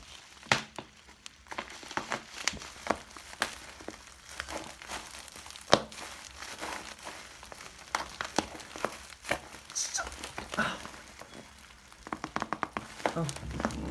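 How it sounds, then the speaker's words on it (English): Cardboard and plastic packaging for a Samsung Galaxy S9 Plus phone is cut and torn open, giving close, irregular crinkling, ripping and crushing noises throughout, with no speech. "So after trying for a solid 10 minutes to get into all of that big packaging, I finally got in"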